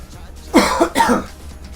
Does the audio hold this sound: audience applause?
no